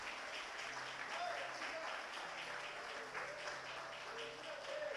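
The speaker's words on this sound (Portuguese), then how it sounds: "Dá um aplauso." A church audience claps continuously at a moderate, fairly distant level, dense and even across the whole span, with a voice occasionally audible beneath the applause.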